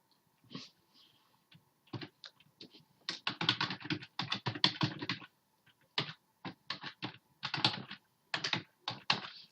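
Keys on a computer keyboard clatter in quick bursts and short runs of rapid typing with brief pauses between, close and fairly quiet.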